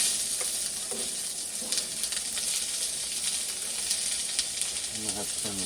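Garlic and onion fry on a Coleman camp stove with a steady, close sizzle and hiss that runs through the whole stretch, broken by a few stirring scrapes near the end.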